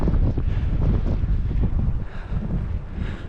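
Strong wind buffets the microphone during a bicycle ride in sunny weather, with a continuous low rumble that gusts and settles throughout. No one speaks.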